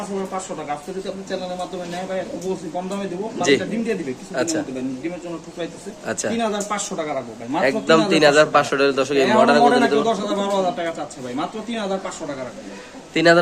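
Pigeons coo softly in the background at a pigeon market while people talk continuously over them.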